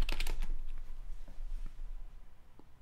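Keys clatter on a school Chromebook keyboard in a quick burst of close, light clicks, then a few sparse taps follow, with no talking.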